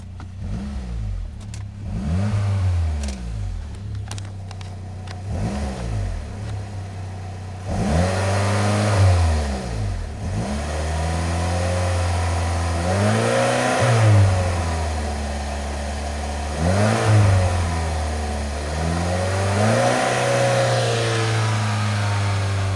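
Saab 9-3 2.0t engine after throttle body cleaning, revved repeatedly in a steady rhythm of rises and falls over a constant idle hum, close and clear with no talk.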